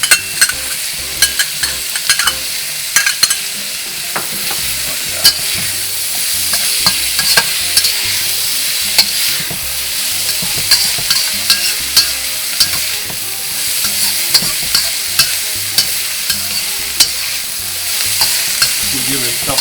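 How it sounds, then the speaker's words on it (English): Minced garlic sizzles steadily in a hot pan for a cioppino seafood sauce, with frequent scraping stirs from a utensil breaking through the continuous frying hiss, close and fairly loud. "And so I'm going to add some minced garlic in there."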